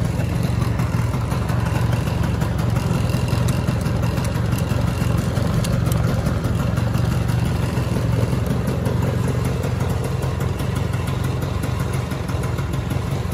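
A Honda Lead 125 two-stroke scooter, long unused, runs at idle with a steady buzzing engine note and light mechanical clatter, close and continuous with no talk over it.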